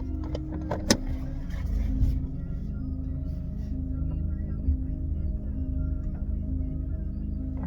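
Low steady engine rumble and road noise from inside a car camper pulling out of a small, awkward parking lot, with a few sharp clicks and knocks early on, constant and close.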